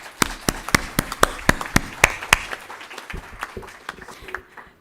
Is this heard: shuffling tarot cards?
no